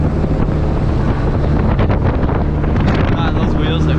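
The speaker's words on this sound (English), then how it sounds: "It's a little windy." Outdoor wind buffets the microphone as a loud continuous rumbling roar, steady throughout, with faint indistinct sounds underneath.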